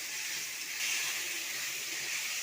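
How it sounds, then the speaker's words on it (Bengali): Ground spice masala fries in hot oil in a pan for Bengali chicken kosha, giving a steady, soft, hissing sizzle with no talk. "মশলাটাকে ভালো করে আবারও ভেজে নেব"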